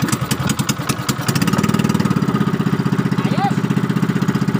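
A small boat engine sputters, catches, and settles into a steady, rapid putter, loud and close, with a brief shout over it.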